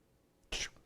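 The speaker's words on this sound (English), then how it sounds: "So the sound you're hearing is that mirror." An SLR camera fires at 1/100 second, its mirror flipping up and the shutter releasing as one quick, close mechanical snap after a quiet lead-in.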